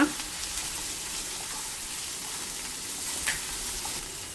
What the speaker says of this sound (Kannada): ಇದು ಸ್ವಲ್ಪ ಫ್ರೈ ಆಗಲಿ